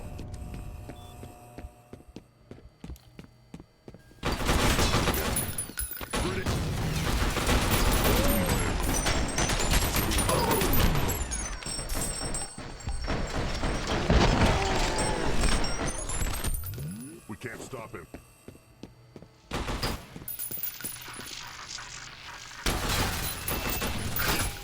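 Small automated ground turrets firing in the shooter game F.E.A.R. Perseus Mandate, with loud, sustained bursts of rapid gunfire and clattering impacts broken by short pauses, with quieter game ambience at the start and end.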